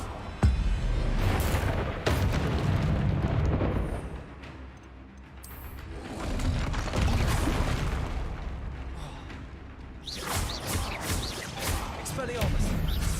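A Bombarda spell explodes with a heavy boom in a Harry Potter video game, a sharp blast early and another later, with spoken voices and game sounds throughout.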